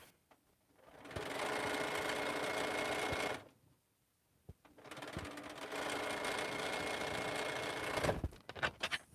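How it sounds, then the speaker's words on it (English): A home sewing machine stitches a quilt block in two long sustained runs separated by a brief pause, then ends with a few short bursts, close and fairly loud. "We'll sew one more block."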